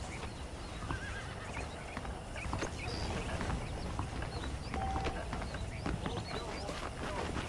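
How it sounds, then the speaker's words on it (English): Horses in the Red Dead Redemption video game neigh and whinny while hooves clip-clop steadily, mixed with background game ambience and faint speech. "The horses are saddled up over here."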